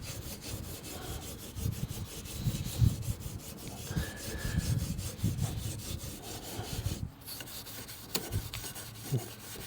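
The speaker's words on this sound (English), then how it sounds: "It tears up this steel wool pretty fast, though." Steel wool rubbed back and forth over a pot metal car bumper from a '55 Chevy, a quiet, close, repeated scratchy rasping in uneven strokes.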